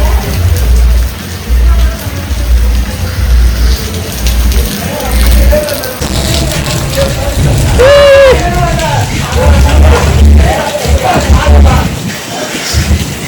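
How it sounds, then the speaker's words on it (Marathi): Heavy rain pours steadily at a farmhouse among trees, a loud continuous hiss with low rumbling, while people talk over it. "भरपूर पाऊस पडत आहे."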